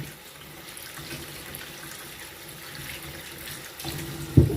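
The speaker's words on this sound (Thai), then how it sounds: "ล้างแช่น้ำแล้วก็ล้างออกให้สะอาด" Mirabelle plums are rinsed under running tap water in a sink, giving a soft, steady trickle and splash that grows slightly louder toward the end.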